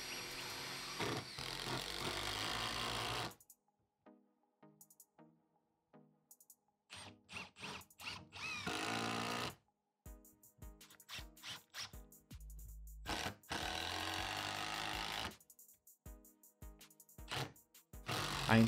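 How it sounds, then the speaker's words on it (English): Milwaukee brushed 2656-20 and brushless 2850-20 impact drivers driving screws into wood, heard as repeated loud bursts of rapid hammering rattle separated by short silences, each lasting one to several seconds. "I insert and remove the screws a couple times and both drills did well."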